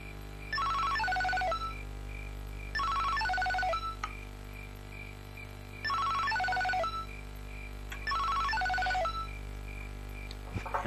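A phone rings in four repeated bursts of a warbling electronic ringtone, each about two seconds long with short pauses between, fairly clear against a steady background hum.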